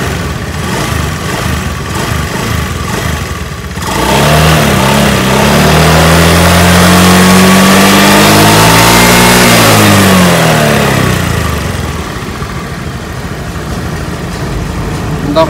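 A Honda Beat FI scooter engine idles, then revs up and holds a rising, wavering drone for several seconds before easing back down, loud and close.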